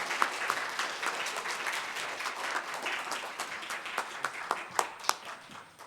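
A church congregation at a Christmas Sunday service applauds to welcome infants, steady moderately loud clapping from many hands throughout, with a few sharper individual claps standing out near the end.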